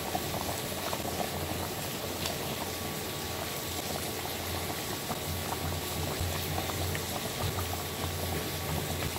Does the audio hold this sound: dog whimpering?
no